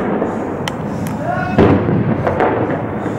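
Cluster bombs bursting during heavy shelling of Kafr Batna in rural Damascus, a few sharp thuds and cracks over a constant roar of noise, with people shouting throughout.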